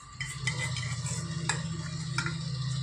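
Sev roll batter is being stirred with added water, a steady close scraping and swishing in a bowl with a low continuous hum beneath and a few brighter clinks of the utensil against the sides; no voices.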